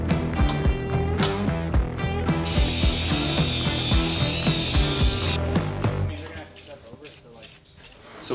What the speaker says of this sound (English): so we'll need to cut off the original bracket